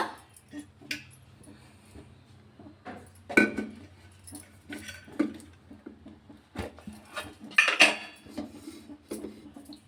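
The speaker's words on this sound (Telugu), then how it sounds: "స్టవ్ ఆన్ చేసుకొని చిన్న కడాయి పెట్టానండి స్టవ్ మీద" A small metal wok clanks and clatters a few times on a stove up close, with light scraping and softer kitchen knocks scattered between the louder hits.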